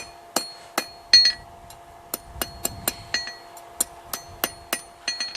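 Hammer blows on hot steel while forging the tip of a fire poker, sharp ringing metallic strikes at an uneven pace, some in quick doubles, close up over a faint steady forge hum.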